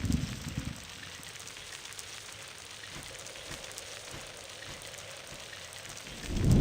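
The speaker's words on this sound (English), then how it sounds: "It started to rain again." Rain falls in the survival horror game Alone in the Dark: The New Nightmare, a steady, even hiss of downpour carrying on throughout, with a few louder bumps at the very start and end.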